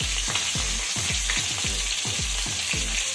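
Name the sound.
fish (aar fish) frying in oil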